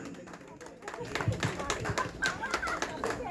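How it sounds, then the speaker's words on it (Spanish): Loud applause at a birthday celebration with a mariachi band, a crowd clapping in irregular bursts that grow denser midway, with voices mixed in. "aplauso fuerte que se sienta, claro que sí."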